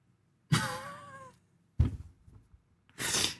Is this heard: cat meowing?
yes